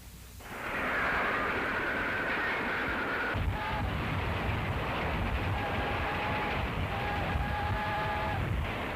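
Loud steady rumble of a train rolling on rails, a continuous roar with faint squealing tones riding on top, no voices.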